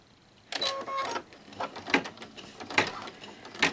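An embroidery machine stitches in the hoop for paper piecing, making several short mechanical whirring bursts separated by brief pauses, fairly close and quiet.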